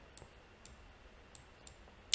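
A series of faint mouse clicks at a computer during ArcGIS work, four or five light ticks spaced across a couple of seconds, ending with a slightly louder click, over quiet room hiss.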